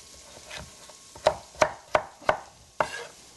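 A knife chops pancetta on a cutting board in five crisp, close, evenly spaced strokes, with a quiet lead-in before them and no talk.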